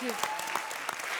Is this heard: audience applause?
yes